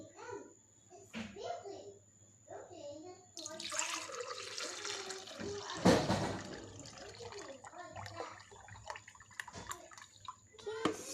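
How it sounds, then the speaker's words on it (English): Liquid splashes and pours steadily into a container for several seconds, with voices talking over the pouring. "I'll hold the blender down a little bit for Kayleigh to pour it in."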